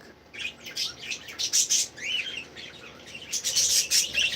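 Pet budgies chirp and warble in a garden, bursts of bright twittering calls rising and falling in irregular clusters, fairly close and lively throughout.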